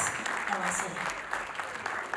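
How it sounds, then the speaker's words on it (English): Applause at a dinner night as the President is honoured, a steady crowd clapping with voices mixed in and some talk over it. "Let's be generous with our applause for our President."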